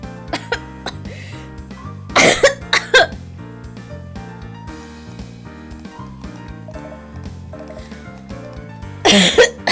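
Several short bursts of coughing, near and loud, over a quiet rhythmic musical beat.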